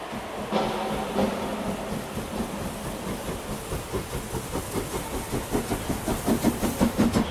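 A heritage ride train at Three Valley Gap, British Columbia, rumbles past with a rhythmic clickety-clack that grows louder and faster toward the end, with no voices.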